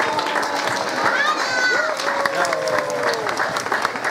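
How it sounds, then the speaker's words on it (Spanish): At a Three Kings parade in Puntallana, a crowd claps steadily, with children's voices and people talking and calling out over the applause, lively and close throughout. "Un aplauso a los Reyes Magos otra vez."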